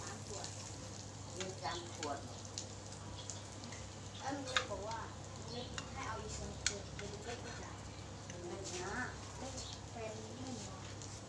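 Food frying on a hot pan at a New Year pork barbecue: a faint, steady sizzle with light crackles beneath frequent talk and a low constant hum.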